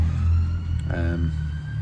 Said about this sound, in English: Apologies about the sirens.